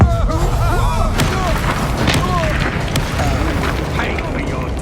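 Spells explode in a Hogwarts Legacy battle: heavy, booming magical blasts and thuds ring out amid constant combat effects, with a loud voice shouting spell names over the din.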